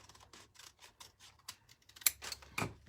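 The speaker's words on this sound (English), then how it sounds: "Take my favorite pair of scissors" Quiet, rhythmic snips of scissors cutting through a Chemex paper coffee filter, a steady run of small crisp cuts close up, ending with a couple of louder snips.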